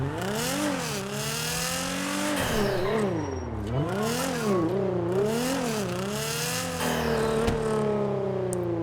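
Nissan GT-R modelled as the Elegy RH8-X in the video game GTA 5, its engine revving repeatedly in a garage, with steady rising and falling synthetic tones that sound close and loud and play alone without talk.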